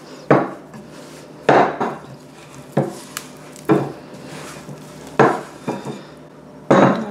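Dough for a bread stuffed with minced meat and peppers kneaded by hand on a kitchen worktop, heavy thumps and slaps every second or so with soft scraping between, close and with no talking.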